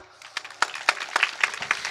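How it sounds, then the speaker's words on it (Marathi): A small audience at a kirtan program in Hiverkhed, Akola claps in a brief, uneven patter of separate hand claps, fairly close, with faint voices underneath. "टाळी तर वाजवा"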